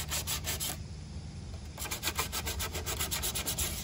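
Sanding old painted parts by hand, with tape-wrapped fingers: quick back-and-forth rubbing strokes in bursts, a short pause in the middle, close and fairly loud with no talking.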